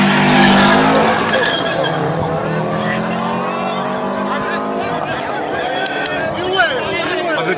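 Race cars at a track day, a DSG-gearbox car chasing a Subaru, roar loudly through rapid gear changes with engine notes rising and falling and brief tyre squeal, while a voice talks over the continuous din.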